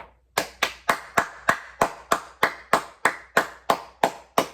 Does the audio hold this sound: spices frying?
no